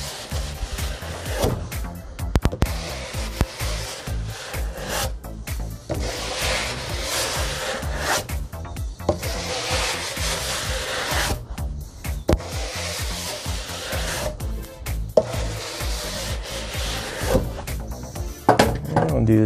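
A brush works leftover wax off a snowboard base after hot-waxing and scraping: loud, close, continuous bristly rubbing in repeated strokes with brief pauses.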